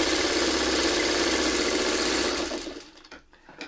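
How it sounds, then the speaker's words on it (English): A sewing machine stitches a quilt block with a steady, loud, fast mechanical whir that runs evenly for about two and a half seconds, then slows and stops, leaving a few soft clicks and taps. "And I just get one stitch over, and then I line up the next one."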